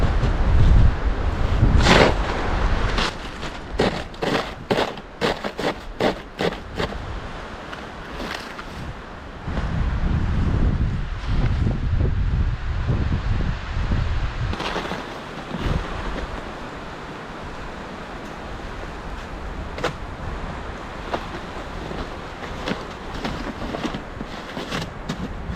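Strong storm wind roars through a forest during a near-hurricane with snow and blizzard, loud gusty rushing that surges and fades in waves, with sharp creaks and cracks of trees in the first half.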